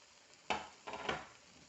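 Chorizo sausage stirred into cooked-down tomatoes in a pan for Spanish rice: two short, faint scraping and sizzling strokes close by, with no voices.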